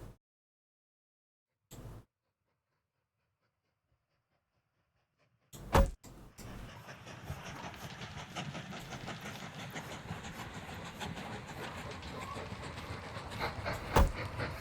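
A train rolls along a line through the woods in the railway game Mashinky, a steady rumbling clatter starting after a few faint clicks and near silence, then continuing evenly with sharp metallic clacks, no speech.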